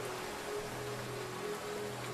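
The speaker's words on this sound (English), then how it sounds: "The rain is only getting worse, Apple Bloom." Animated rain in a My Little Pony cartoon falls as a soft, even hiss, steady and unbroken for the short stretch with no voices over it.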